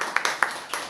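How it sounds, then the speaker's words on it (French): A small audience claps at a talk on exam stress, a short burst of several sharp hand claps, close and clear, with no speech. "Ok, on applaudit."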